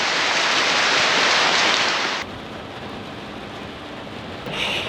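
A heavy rain shower in Cateel, Davao, Philippines pours loud and close as a dense hiss, then drops abruptly to a softer, duller patter about halfway through, with faint thunder and no voices.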